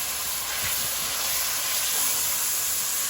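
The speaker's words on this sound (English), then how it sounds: "Let our seasoning cook, guys." Seasoning cooking in a pan for sweet potato dumplings, giving a steady, even sizzle and hiss that carries on unbroken throughout, fairly loud and close, with no talking.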